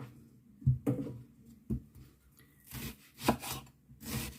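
A knife slices an onion into large chunks on a cutting board, giving a few scattered soft crunchy chops and rubbing scrapes at uneven intervals, close up with no talking.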